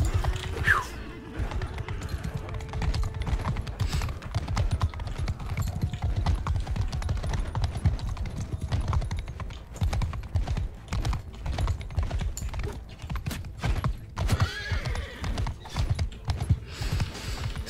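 In the video game Mount & Blade II: Bannerlord, a horse gallops with rapid rhythmic hoofbeats and neighs a couple of times, mixed with keyboard typing clatter throughout.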